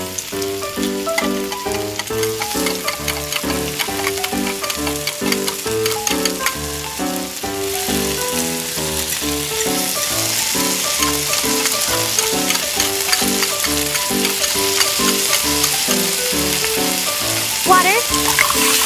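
Onion and garlic frying in cooking oil while a Moroccan beef stew is being made, a steady bright sizzle that grows louder partway through, running under prominent melodic background music.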